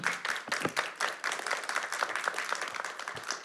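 A conference round-table audience bursts into brisk, dense applause, a short burst of many hands clapping at once.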